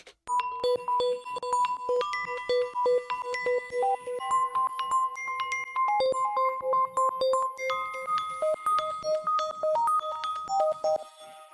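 Bright synth plucks play a bouncy melodic pattern, each note trailing into echoing repeats and a spacious reverb wash, with no voices.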